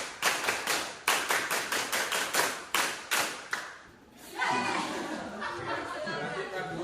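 A class of high-school students performs the rhythmic scout clap, with sharp bursts of group clapping in a quick patterned rhythm, then breaks into chatter and some laughter in a classroom.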